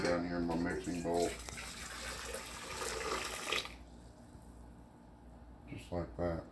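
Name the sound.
boiling water poured into a mixing bowl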